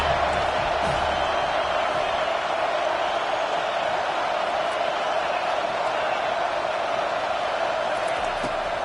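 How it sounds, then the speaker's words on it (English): Large football stadium crowd roaring on third down during a Notre Dame versus Florida State game, a dense, steady wall of cheering noise that stays at a constant loud level throughout. "Decibels rising as the crowd gets behind this defense on third down."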